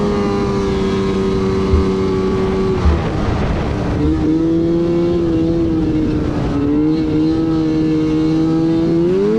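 A snowmobile engine drones loudly and close on a curvy Northern Michigan trail, its pitch sagging and climbing as the throttle eases off and opens up again.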